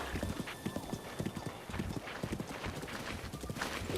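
Horse hooves gallop in a rapid, steady clip-clop rhythm in The Legend of Zelda: Breath of the Wild, close and moderately loud throughout.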